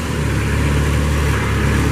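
A 2014 Moffett M55.4 truck-mounted forklift runs on its Kubota engine, producing a loud, steady, close-up rumble with a constant low throb and no change in pitch, with no one talking.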